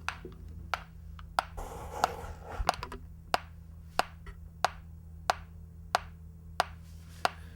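Sharp, evenly spaced metronome clicks tick along at 92 beats per minute, about one every two-thirds of a second, with faint background hum and a brief rustle midway.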